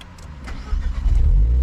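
A Renault Clio 4 RS 200 tuned to 250 hp cranks and fires up, a short starter whir building into a loud, deep engine rumble that settles into idle, close by with no talking.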